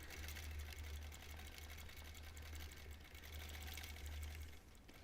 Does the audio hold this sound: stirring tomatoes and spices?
no